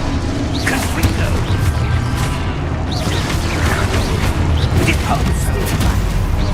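A Confringo fire spell blast in the Hogwarts Legacy video game lands amid a dense, continuous barrage of heavy booms, rumbles and crashing impacts, loud and sustained, with voices mixed into the battle din.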